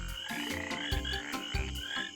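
A tree frog croaks in repeated pulsing bursts, close and loud, with a few deeper thumping notes mixed into the rhythmic chorus.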